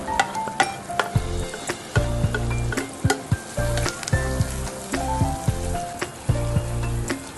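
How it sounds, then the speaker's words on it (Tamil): Tomatoes and onions fry in a pan for prawn biryani, a steady close sizzle broken by repeated clanking stirs and scrapes of a spoon against the metal, with no talking. "இந்த தக்காளி வெங்காயம் ரெண்டுமே நல்லா மசிஞ்சு நல்லா வேகணும்"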